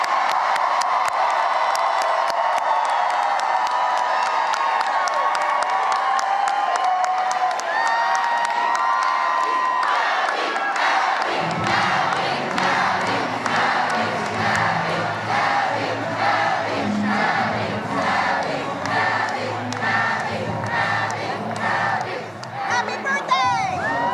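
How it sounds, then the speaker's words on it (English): An energetic crowd at Abigail Spanberger's victory celebration roars with cheers, then falls into a loud, rhythmic chant of her name, repeated over and over with shouts and whoops. "Spanberger coming out to a very energetic crowd, yelling, "Abby, Abby.""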